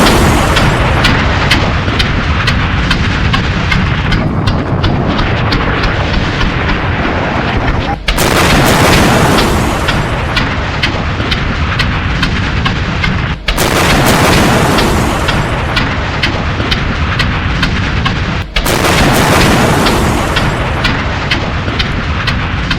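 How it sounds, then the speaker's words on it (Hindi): Heavy explosions from US air strikes on Venezuela, a dense continuous roar of blasts and rumbling booms, loud and close, with sharp breaks recurring every few seconds. "अमेरिका के इस अटैक के बाद जोरदार धमाके होते हैं वेनेजुएला में और वेनेजुएला दहल उठता है।"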